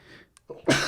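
A sneeze bursts out loud and close near the end, after a quick intake of breath, with a brief murmur of voice beforehand.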